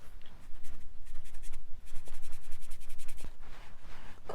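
White tape being stained for a junk journal: repeated scratchy rubbing strokes of an applicator across the tape surface, close and fairly loud, in quick back-and-forth bursts with a short pause midway.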